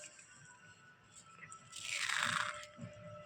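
Crispy fried besan jhuri bhaja broken by hand, giving a brief crunchy crackle in the middle of a faint, quiet background.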